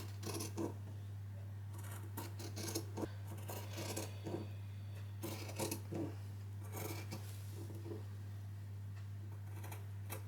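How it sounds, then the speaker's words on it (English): Scissors cut fabric close to a line of stitches, giving repeated crisp snips and slicing crunches at an irregular pace, close and quiet over a constant low mains hum. "we're going to cut it at 1/8 of an inch from the stitches, nice and close"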